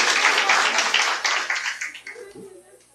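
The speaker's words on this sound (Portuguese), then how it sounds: "como é bom um aplauso, né?" Audience applause at a seminar in Leôncio de Albuquerque, RJ: loud, dense clapping from a crowd that gradually fades, with a voice starting to talk near the end.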